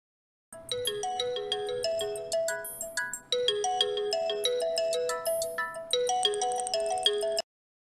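A mobile phone ringtone plays loud and clear, a bright repeating electronic melody that runs several seconds before stopping abruptly.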